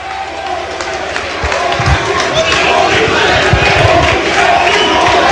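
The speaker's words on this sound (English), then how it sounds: "The crowd chanting, holy shit." A wrestling arena crowd at an ECW-style match chants "holy shit" in a loud, rhythmic roar that swells and holds, with scattered shouts and thumps inside the packed venue.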